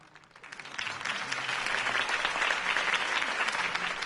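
A crowd breaks into applause in a video game (Batman: The Telltale Series), building quickly from quiet to a dense, sustained clapping that holds steady to the end.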